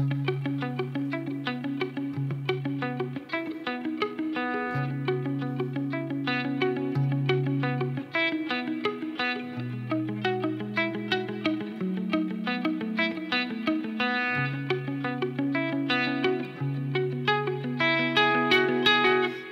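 A continuous guitar riff with sustained low notes and ringing chords, heavily processed with effects and reverb, playing steadily throughout.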